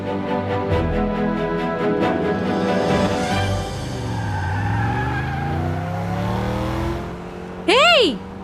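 A car drives up fast with a revving, shifting engine and tire squeal, then a short horn-like blast near the end, while voices talk over it in a Hindi-dubbed drama.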